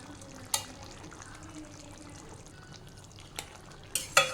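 Fresh cream being stirred into cooked chicken handi in a pot, a soft wet stirring and gentle bubbling heard close and quietly, with a few sharp spoon clinks against the pot scattered through.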